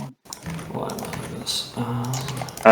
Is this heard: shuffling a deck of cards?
yes